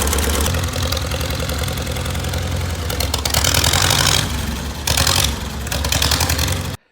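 A 1948 Farmall C tractor engine keeps running after a restoration start, a loud, close, continuous mechanical chug with clattering texture and a few short rises in revs, cutting off abruptly at the end.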